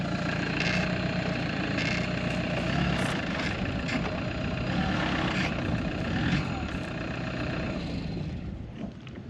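A campervan's engine revs and strains continuously while stuck and slipping in soft ground in Western Australia, a steady loud rumble with hard throttle surges throughout, people's voices mixing in faintly.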